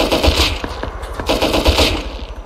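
Automatic gunfire in the survival game Rust: rapid bursts of loud, close shots in quick succession with brief pauses between volleys, no voices over them.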